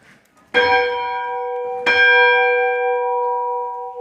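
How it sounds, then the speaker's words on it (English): A church bell in the bell tower at Roseland rung twice, each stroke loud and close with a long, ringing tone that hangs on and slowly fades, no voices. "Ring the bell."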